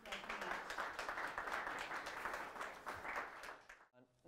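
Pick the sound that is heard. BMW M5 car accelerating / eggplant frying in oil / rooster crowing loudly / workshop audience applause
workshop audience applause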